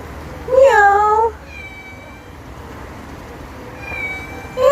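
A cat outdoors on a walk to a park meows twice, a loud drawn-out call near the start and a shorter one rising at the very end, against quiet background hiss.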